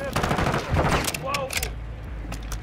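Gunfire in the Call of Duty: Modern Warfare II campaign, a dense, loud burst of overlapping shots and impacts in the first second and a half, followed by a few fainter cracks and a low rumble, with no one talking.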